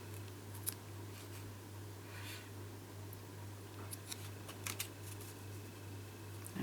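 Scissors snip through folded card during papercraft work on a book easel card, with a few short crisp cuts over a steady low hum, fairly quiet and close.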